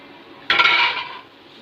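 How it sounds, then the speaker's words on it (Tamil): A single brief metallic scrape and clatter of a utensil against a pan, loud and close, as cut okra is mixed into masala for a poriyal, fading after about a second in otherwise quiet surroundings. "சேர்த்து நல்லா மிக்ஸ் பண்ணி விட்டுக்கலாம்."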